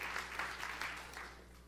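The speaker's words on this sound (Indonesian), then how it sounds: "tepuk tangan yang meriah untuk kemuliaan nama Tuhan" A church congregation claps together in praise during a sermon, a soft wash of applause that swells in a few pulses and then fades gradually.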